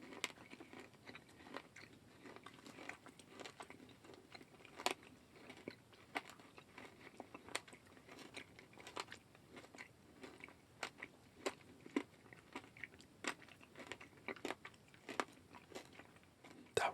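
A crunchy-coated soft gummy bonbon candy is bitten and chewed close to the mic, sharp crunchy crackles repeating at an irregular chewing rhythm throughout, with a quiet background and no talking.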